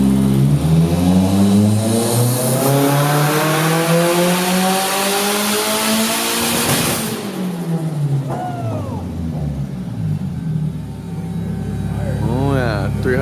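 Nissan 240SX notchtop with an SR20 engine revving hard on a dyno during tuning, loud sweeping pull up through the rev range, a drop after a shift, then climbing again, close and continuous.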